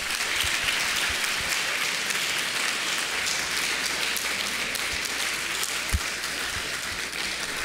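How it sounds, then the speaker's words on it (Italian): A crowd applauds continuously at a Linux Day conference opening in Pordenone, dense clapping from many hands that holds steady without a break. "scateniamo il primo applauso per Alberto."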